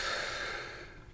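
A person draws in one long, deep breath during a breathing meditation, a soft airy rush that is loudest at the start and slowly tapers over about a second, close and with no talking.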